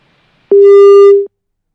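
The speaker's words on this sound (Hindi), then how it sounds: "लगता है फोन डिस्कनेक्ट हो गया है।" A phone line gives its busy tone after a call drops: one loud, steady electronic beep lasting under a second, alone in silence.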